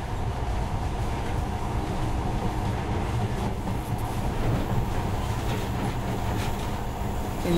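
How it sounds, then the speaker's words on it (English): Monorail train in the game Metro Last Light, a steady loud rumble of wheels and rails with faint rhythmic clatter, running continuously throughout with no talk. "In the past, trains were ordinary things. But now, this monorail seems magic, doesn't it?"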